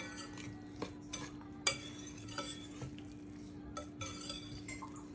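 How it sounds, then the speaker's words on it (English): Batter for double chocolate zucchini bread is mixed in a bowl, with quiet, irregular scraping and occasional light clinks of a utensil against the bowl over a faint steady hum. "So next, just mix it up."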